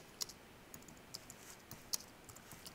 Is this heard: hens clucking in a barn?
no